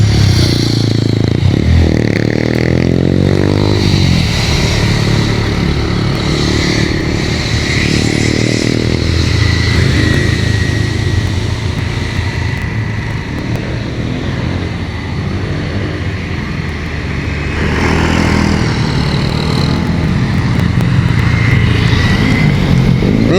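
A Yamaha Mio motor scooter passes on a road at a bend, with a loud, close engine whine rising and falling alongside other passing traffic and some scraping clatter.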